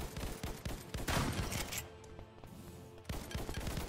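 Gunfire in the browser shooter ev.io, including shotgun blasts, comes as loud repeated shots mixed with a busy background, then a brief lull and renewed firing.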